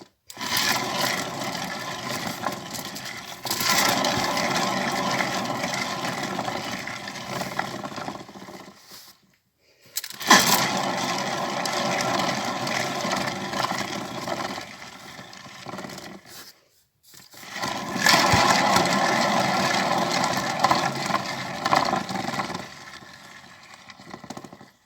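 A foil-covered wooden Lazy Susan spun in three long turns, each a steady close rumbling whir lasting several seconds, separated by short silent pauses.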